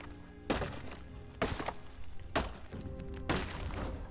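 Four heavy, evenly spaced thunks from repeated whacking in the video game First Dwarf, each a sharp impact with a brief crunchy tail, landing roughly once a second over a steady background hum.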